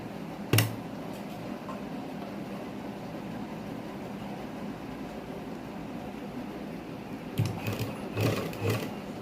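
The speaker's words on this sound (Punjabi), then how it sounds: "ਉਹਦੇ ਉੱਪਰ ਹੀ ਸਲਾਈ ਲਾ ਦਾਂਗੇ" A sewing machine stitches over an earlier seam on plain fabric, a quiet steady mechanical run with a sharp click near the start and a few louder rattling bursts toward the end.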